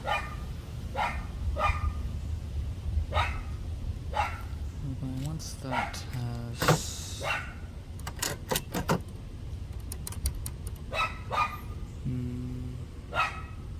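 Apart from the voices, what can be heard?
dogs barking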